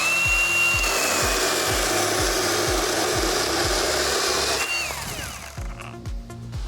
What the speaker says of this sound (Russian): Теперь я попробую задушить эту пилу, ну то есть остановить ее во время работы.